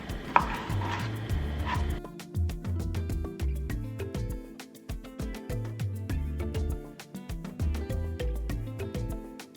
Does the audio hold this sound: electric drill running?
no